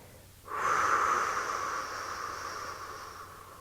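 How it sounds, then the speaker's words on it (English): A long, slow exhale through the mouth during a gentle yoga session, a steady breathy rush that starts abruptly, stays close and fairly loud, then tapers gradually over about three seconds. "we'll inhale deeply into our nose, filling up our belly with air, and a long, slow exhale through our mouth"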